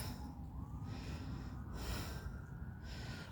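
Max the dog sniffing on a walk across an empty field, a run of close, soft snorting breaths and snuffles repeating over steady outdoor background noise.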